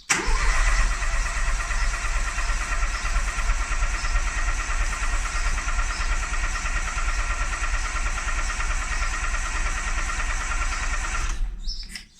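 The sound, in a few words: engine cranking on starter motor, boosted Mini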